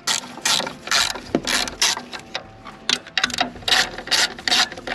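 Bolts being tightened on a car with a ratchet wrench, close up, giving repeated bursts of fast ratcheting clicks separated by short pauses. No speech.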